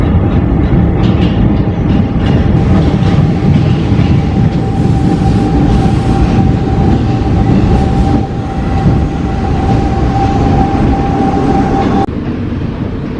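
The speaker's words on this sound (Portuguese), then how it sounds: "E lá vem o trem" A 1970s Buenos Aires subway train rumbles loudly into a station, a steady roar with rattling wheels and a sustained metallic squeal, then eases off toward the end.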